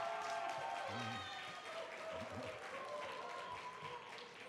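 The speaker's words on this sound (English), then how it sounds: "Thank you for that applause." A graduation ceremony crowd applauds and cheers faintly in a large hall, a soft continuous wash of clapping with a voice briefly speaking over it.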